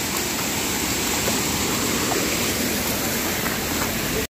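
Steady rushing water from a river swollen after heavy rain in a hill village, a continuous close broadband flow that holds even throughout and then cuts off abruptly at the end.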